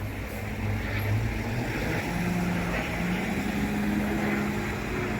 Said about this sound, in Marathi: खूप गाड्यांचे जास्त आवाज येत आहेत